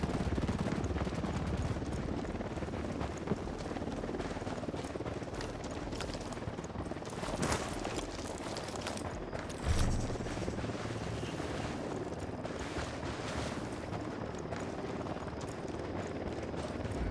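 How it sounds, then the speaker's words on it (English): Helicopter in the video game Ghost Recon Wildlands, heard as a dense, steady rotor roar that fills the clip. Gunfire and other game effects sit under and around it, with a louder burst near the middle and no clear talk. "Helicopter inbound"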